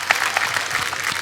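A studio audience on a comedy talk show claps in a brief, bright burst of applause. The clapping is close and steady and fills the short moment on its own.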